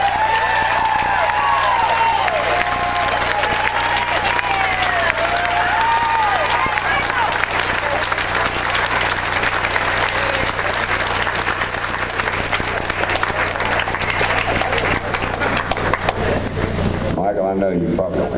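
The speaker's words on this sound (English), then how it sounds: "give a big round of applause to Mr." Loud, sustained applause with some cheering for an inductee at a Beach Shaggers Hall of Fame induction. Music with a melodic line plays over the clapping before it cuts off near the end.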